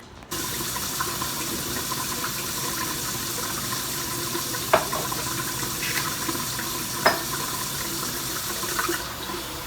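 Water runs steadily from a tap as a constant hiss, with a couple of faint clinks, and no voices.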